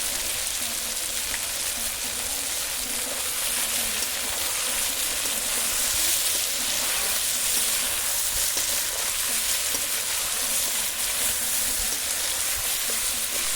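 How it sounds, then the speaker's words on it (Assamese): Duck meat sizzles with onions in a pan, a dense, steady frying hiss that runs unbroken throughout and sounds close to the pan. "এনেদৰে পিঁয়াজখিনি দি পেলাই মাংসখিনি অলপ টাইম ভাজি আছিলে।"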